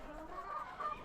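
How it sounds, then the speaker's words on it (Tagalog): Chickens cluck softly nearby, short murmuring calls over a low outdoor hum. "Yan na yung mga fourth batch ko na manok."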